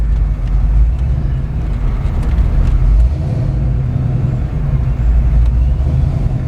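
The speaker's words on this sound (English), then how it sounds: "When I rev it up and let off the gas, it's going to die." A 1987 Foxbody Mustang engine with a Holley Terminator X and an upgraded throttle body, heard from inside while driving: loud, steady low rumble with a brief swell of revving that settles back toward idle.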